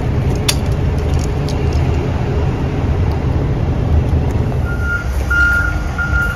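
A heavy concrete mixer truck rumbles on a job site, its low diesel drone steady throughout, with a series of evenly spaced reversing beeps sounding near the end.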